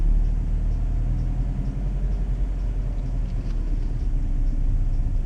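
A car engine rumbles steadily while driving, heard from inside as a deep, continuous low drone with faint road noise and no talking.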